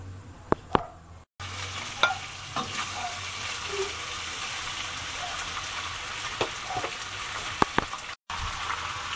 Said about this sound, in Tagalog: Medyo ipiprito po natin ng konti or bahagya ang ating pork ears.